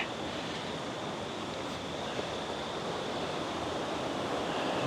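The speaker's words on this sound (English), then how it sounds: "Let's get over a little closer to the rapids here." River rapids in the Carolinas, a continuous rushing roar of water heard at close range, steady and unbroken with no voices.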